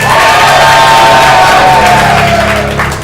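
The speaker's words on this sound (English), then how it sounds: "Clap for all of them, but clap particularly loud." A large theatre audience cheers and whoops loudly, with shouts rising over a continuous roar that fades slightly toward the end.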